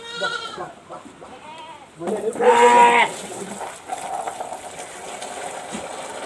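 Lambs being brought to drink water bleat several times up close, with one long loud cry in the middle, followed by quieter rustling and water sounds.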